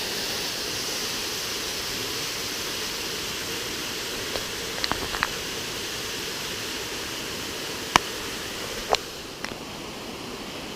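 A waterfall on the Coomera Trail roars as a steady, full rush of falling water, with a few faint bird chirps breaking through.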